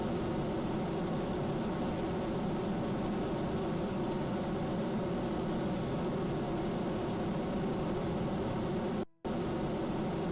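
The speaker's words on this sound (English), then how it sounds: "that's a powerful engine" A powerful rocket engine fires in Kerbal Space Program, a steady loud broadband roar holding constant with one brief dropout near the end.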